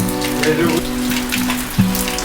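Rain falls steadily on a rural province home in the Philippines, a continuous close hiss of drops on surfaces with faint voices and a brief louder tone underneath.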